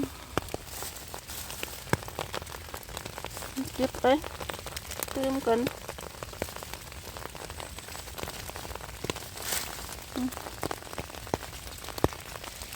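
Rain patters steadily on leaves and surfaces in a German forest during winter mushroom picking, a dense crackle of close drops throughout, with a person speaking briefly in the middle.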